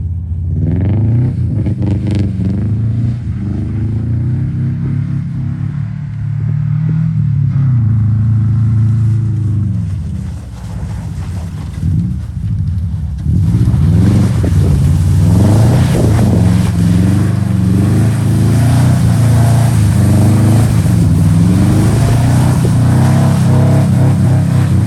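A Tesla Model 3 drifts through snow in track mode, giving a low electric motor whir and rumble that rises as the car accelerates, with tire and snow noise close by and no engine roar.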